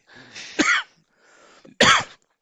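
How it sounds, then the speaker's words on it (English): Two short, sharp coughs, each preceded by a breathy intake, close and fairly loud with brief silence between. "Oh, you made me cough"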